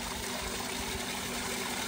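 Water gushing steadily from a tube well outlet, a constant close splashing hiss with no pauses.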